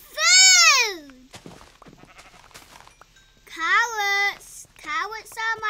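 Synthetic Minecraft sheep bleats ring out, one long bleat, then a pause, then two more, with soft game noises and clicks in between.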